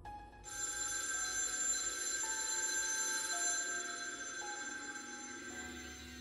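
A telephone rings continuously and loudly inside a cabin in the woods, its bright electronic ringing holding steady for several seconds with no voices.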